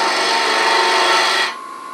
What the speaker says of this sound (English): Now I can start hollowing it with a spindle gouge.